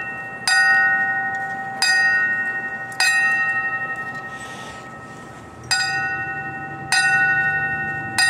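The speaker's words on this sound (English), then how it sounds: "Jerry, if you'll come forward for the tolling of the bell." A large bell tolls slowly at a 9/11 memorial ceremony in Marion, Virginia, with five loud ringing strikes spaced one to three seconds apart, each one fading in a long resonant decay. No voices are heard.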